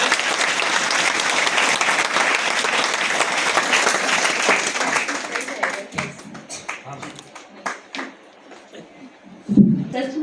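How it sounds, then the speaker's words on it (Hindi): Audience applause fills a school gathering for a woman guest at a one-stop centre event, loud and dense at first, then thinning into scattered claps and taps before fading. "मैडम के लिए जोरदार तालियां।"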